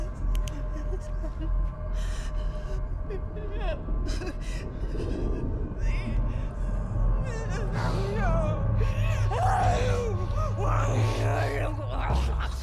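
An infected character in The Last of Us game groans and screams in agony, strained anguished cries rising over a dense, rumbling game soundscape.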